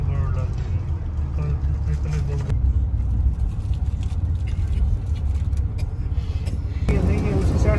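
Inside a riding car, a steady low engine and road rumble fills the cabin throughout, with shifts in tone as it moves and people talking over it.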